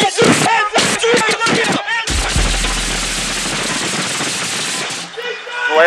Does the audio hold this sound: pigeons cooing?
no